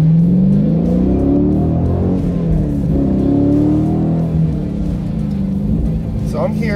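A Dodge Challenger Swinger Edition with a naturally aspirated 6.4-liter engine accelerates on a rural Pennsylvania road, its loud, deep engine note rising and falling steadily from inside the car.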